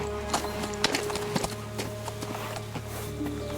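A brown horse's hooves clip-clop at a walking pace in Kingdom Come: Deliverance II, an irregular series of soft thuds over steady game ambience.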